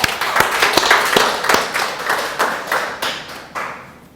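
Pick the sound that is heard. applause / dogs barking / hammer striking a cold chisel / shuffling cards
applause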